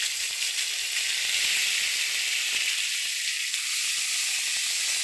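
A pinch of asafoetida with ginger, fennel and green chili paste sizzles in hot oil while lentil dal is being cooked, a loud, even, continuous frying hiss close up with no talking.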